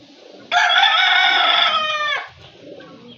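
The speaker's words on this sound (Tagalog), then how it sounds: "Ganda manok." A rooster crows once, a long, loud, harmonic call lasting about a second and a half, close by, then quieter farmyard background.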